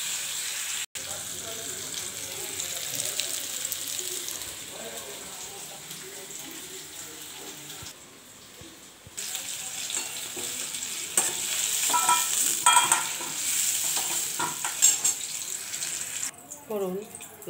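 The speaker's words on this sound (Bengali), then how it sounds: "এবার ভালো করে ভেজে নেব, হালকা হালকা করে ভেজে নেব।" Potato pieces fry in a pan with salt and turmeric while being stirred, giving a soft sizzle broken by scraping and clinks, with a brief tap-like rush of water near the end.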